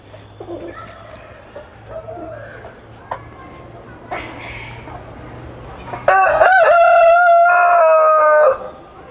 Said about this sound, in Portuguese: Olha que galo bonito. É um galo